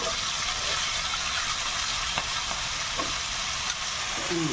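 Potato pieces fry in a hot pan with a continuous loud sizzle and hiss, punctuated by faint clinks and scrapes.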